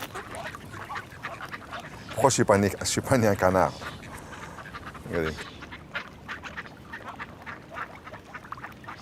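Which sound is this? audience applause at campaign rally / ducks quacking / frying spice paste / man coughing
ducks quacking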